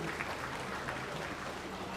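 An audience at a Nigerian business and cultural day event applauds for an honoured guest, a dense, continuous wash of clapping heard from within the crowd, steady and moderately loud throughout.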